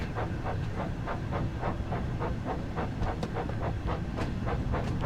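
A train passes in a railway simulation game set on a heritage line, a steady rhythmic clickety-clack of wheels over rail joints with a hissing rumble, continuous and fairly close.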